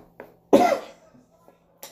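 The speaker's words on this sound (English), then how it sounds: "Excuse my little cough." A single wet, congested cough from a woman with chest mucus, loud and close, framed by quieter throat noises and a brief second cough at the end.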